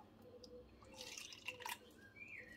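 Blue yarn dye is poured into a container, producing faint, close dripping and a short trickling splash, with a quiet liquid gurgle near the end.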